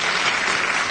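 Dense, loud applause from a conference audience fills the whole moment, a steady wash of many hands clapping with no voices on top.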